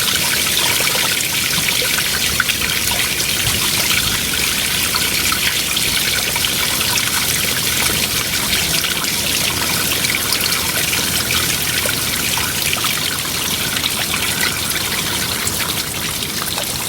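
Continuous water trickling and dribbling out of an old, rusty Bucyrus Erie 10b cable excavator, a steady close splashing stream with no break and no voices.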